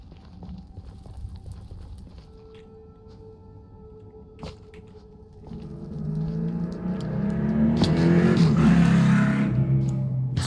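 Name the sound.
motorcycle passing outside a window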